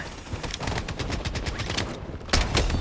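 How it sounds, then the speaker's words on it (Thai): Rapid bursts of gunfire crackle through a match of the shooter video game Blood Strike, with dense overlapping shots and a louder burst near the end. "นูซี่มันยิงตัวบนไม่ถึงนะ"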